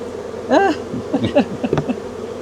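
Honeybees at an outdoor hive during an inspection, with rising and falling buzzing passes close by, several short whining bursts against a low steady background hum.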